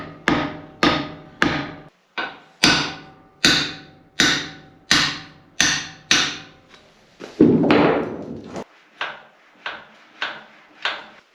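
Hammer blows tapping a valve guide down in the cylinder head of a neglected Onan generator: a steady series of sharp, ringing metallic strikes about every half second, close and loud, with one heavier scraping thud midway.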